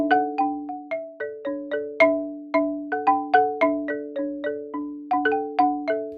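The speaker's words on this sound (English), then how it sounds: "Now just the close mic." Sampled xylophone recorded through a close mic only plays a melodic line of about twenty bright struck notes, each ringing briefly and decaying, intimate and clear with no voices.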